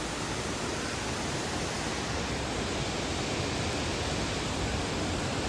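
A steady, dense roar of the Mukti Hole waterfall in Uttara Kannada rushes on without a break, broadband and even, with no voices over it.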